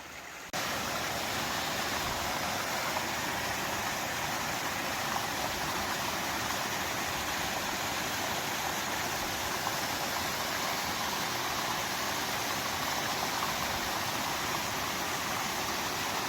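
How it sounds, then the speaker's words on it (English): A brook flows beside the Appalachian Trail in October, giving a steady, even rush of water that runs unbroken throughout and sounds fairly near with no voices. "Still following along the brook or stream, whatever this is."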